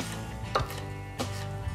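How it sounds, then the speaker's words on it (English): Two crisp knife strikes on a cutting board as a jalapeño, already cut into strips, is finely diced; the chops are close and separate, with steady kitchen background noise and no talking. "we're going to run our knife right through"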